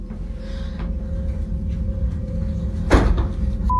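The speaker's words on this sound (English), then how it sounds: "I've just shut door" An indoor door slides shut with one short, sharp thud near the end, over a faint steady hum in a quiet room.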